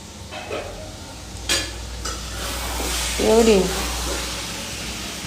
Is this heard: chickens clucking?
no